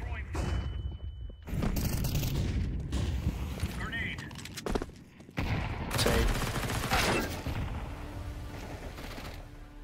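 Gunfire in Counter-Strike 2 on the Dust2 map comes in sharp bursts and single loud shots separated by brief gaps, with players talking over the action.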